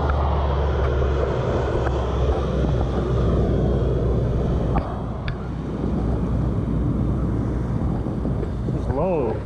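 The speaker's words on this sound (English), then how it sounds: "Big army plane." A large, low-flying military plane passes overhead near a lake, its engine roar a loud, steady rumble mixed with wind buffeting the microphone throughout.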